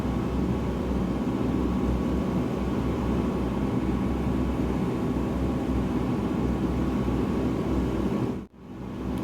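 A DHC-4 Caribou cruises in flight in Microsoft Flight Simulator 2020, a constant loud droning engine and airflow roar filling the cabin, briefly dipping near the end before resuming.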